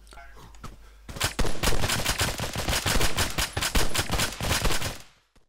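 Sustained rapid gunfire in the military video game Arma 3, loud, close bursts of automatic fire that begin abruptly after a quiet moment and continue for about four seconds before cutting off.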